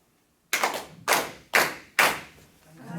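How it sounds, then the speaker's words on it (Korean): A gathering at a Tenrikyo religious lecture claps in unison four times, each clap sharp, loud and close, evenly spaced about half a second apart, with the room's echo ringing after each. "박수 치겠습니다."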